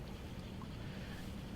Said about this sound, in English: You can hear the engine again.